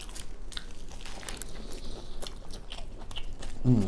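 Close, crisp crunching as fried onion rings are bitten and chewed, a steady run of crackly bites and mouth sounds with no voices.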